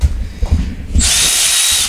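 A power drill whirs loudly up close while working on an Acura TL seat install, starting abruptly after a second of low rumbling and running steadily to the end.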